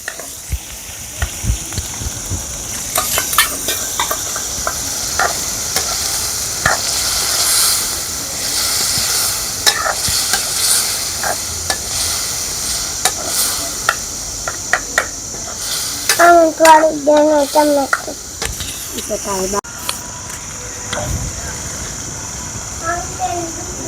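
Eggplant pieces sizzle and hiss in a hot pan while a utensil scrapes and stirs spices through them, with voices talking over parts of it.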